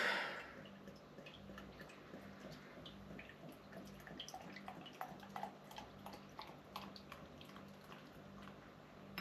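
Golden Champion Ale poured from the bottle into a glass, a faint, steady trickling and fizzing splash lasting several seconds with no talking.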